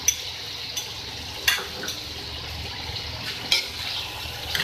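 Chicken frying in a pot as masala is stirred through it, a steady close sizzle with a few sharper scrapes and clinks of the spoon against the metal, no voices.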